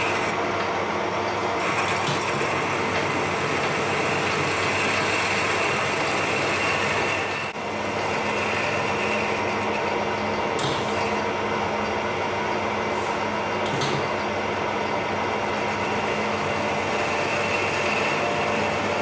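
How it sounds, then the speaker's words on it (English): A lathe machines the centre out of a steel washer to make a prop shaft centre bearing spacer for a BMW E39 530i, a loud, steady mechanical whir and grind with a few faint ticks, close and alone. "We just machine the centre out of this washer."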